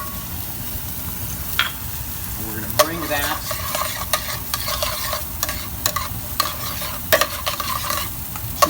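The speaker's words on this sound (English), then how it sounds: "You want to hear a little bit of a sizzle with it." Chopped garlic dropped into hot bubbling oil sizzles and crackles close up, with scattered sharp pops and stirring scrapes, while someone talks briefly over it.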